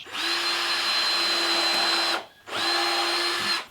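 A power drill drives 2.5-inch screws through workshop siding into 2x2s, giving two close, loud, steady whines: a long run of about two seconds, a brief pause, then a shorter second run.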